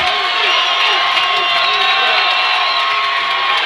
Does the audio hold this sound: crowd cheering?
yes